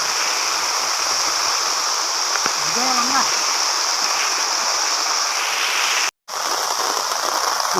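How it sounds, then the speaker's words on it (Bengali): Sudden heavy rain after a hot day drums in a thick, unbroken hiss, briefly cut off near the end, with a voice speaking faintly beneath it. "আমার বৃষ্টি পড়তেছে।"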